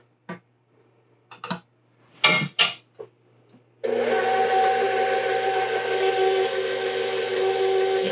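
An electric mixer beats flour into cream cheese pound cake batter, starting with a few scattered clinks and knocks, then a steady, loud whirring motor hum that runs continuously for about four seconds.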